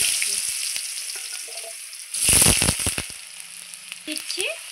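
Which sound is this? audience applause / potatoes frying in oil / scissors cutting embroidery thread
potatoes frying in oil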